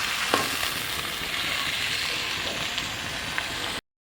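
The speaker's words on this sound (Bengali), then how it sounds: "পেঁয়াজটা একটু লাল লাল করে ভাজবো।" Onions frying in a pan until reddish for a spicy chicken curry, a continuous close sizzle with a couple of faint stirring clinks and no talking, ending abruptly.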